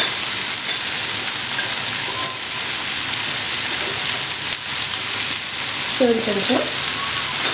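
Spices and red chili powder sizzle and hiss steadily while frying in a kadai for restaurant-style kadai paneer, with occasional stirring scrapes and a brief spoken phrase near the end.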